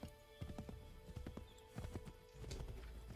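Horse hooves clip-clopping in Assassin's Creed 3, a steady run of close, fairly loud hoofbeats, with a brief whinny-like sound partway through and no talking.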